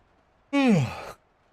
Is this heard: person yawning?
yes